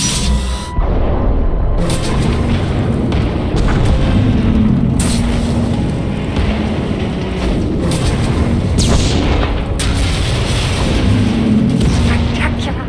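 Weapon fire and explosions from the Star Wars: The Old Republic video game, a continuous loud barrage of booms and blasts lasting throughout, with brief bursts of sharper cracks.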